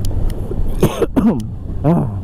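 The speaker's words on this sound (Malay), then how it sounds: "Banyak pula batuk hari ni." A few harsh coughs, close and loud, over a low engine-like hum from a 2022 Suzuki GSX-S1000GT motorcycle.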